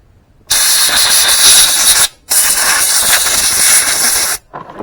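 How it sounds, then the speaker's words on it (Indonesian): Two loud, steady bursts of aerosol cleaner sprayed onto the air filter of a Honda Vario 125/150 scooter, the first lasting about a second and a half and the second about two seconds, separated by a short pause and followed by a faint tail. "Oke, kita semprot aja ya."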